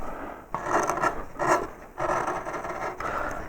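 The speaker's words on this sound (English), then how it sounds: "So I'm trimming under the neck of the hare here." Hand-carving tool rasping and paring wood under the neck of a carved hare figure, in four steady scraping strokes at close range with no talk.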